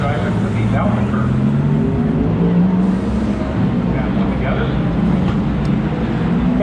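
An Acura ARX-06 IMSA prototype race car from Wayne Taylor Racing at Daytona gives off a loud, steady engine roar that fills the whole stretch, with people talking over it.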